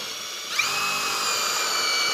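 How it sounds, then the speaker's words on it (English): A power drill spins up and bores a bolt hole through 3/4-inch material, starting with a sharp whine and holding a steady high-pitched drone, close and loud with no talking. "So I'm going to drill one"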